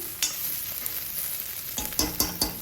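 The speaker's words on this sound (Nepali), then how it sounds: "यसलाई एकछिन मजाले भुटिरहेको छु होइन।" Soybean chunks and potato chunks fry in a pan with a steady high hiss, then a few sharp scrapes and clicks of stirring near the end.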